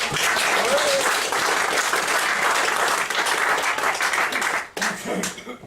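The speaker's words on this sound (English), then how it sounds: "Give her a round of applause." Enthusiastic audience applause after a magic trick, a dense, loud wall of clapping that holds steady for several seconds before briefly dipping and picking up again as it tapers, with murmuring underneath.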